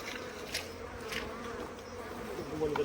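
Bees buzz steadily and densely close by around their hive, a continuous droning hum with occasional louder passes of individual insects.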